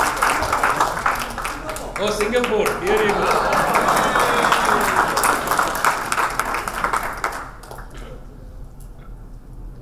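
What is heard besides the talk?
audience round of applause at hackers meetup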